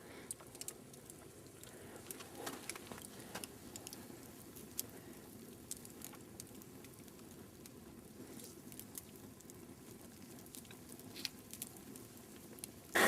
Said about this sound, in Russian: Костер горит.